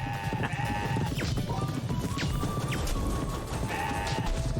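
Several goats bleat in CrossCode over a dense, busy background of rumbling noise, their cries rising and falling one after another.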